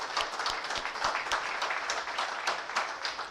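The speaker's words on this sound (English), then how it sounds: "Everyone, please give a big round of applause." Audience applause at a summit's valedictory session, a steady, fairly faint wash of many hands clapping throughout, with no voices over it.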